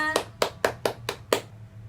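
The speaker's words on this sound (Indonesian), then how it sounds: "Tepuk tangan untuk kita semua." Six crisp hand claps in a steady rhythm from a classroom group, close and distinct, with faint room noise between them.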